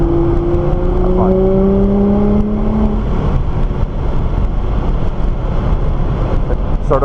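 A Nissan GT-R on a race track, its engine note rising and falling in steady whines with continuous road and wind roar, close and loud throughout, with faint voices underneath.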